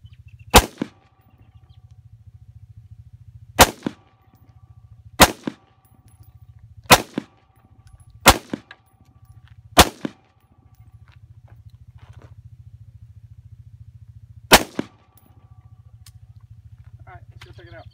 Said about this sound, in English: This is a Smith & Wesson AR-15 M&P-15.